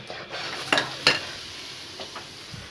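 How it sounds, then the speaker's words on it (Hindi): A spoon stirs custard powder into cold milk in a home kitchen, giving a few light scraping clinks against the container, with two sharper knocks early on, then soft faint stirring. "थोड़ा थोड़ा डालते जाना है और इसे अच्छी तरीके से हल करते जाना है"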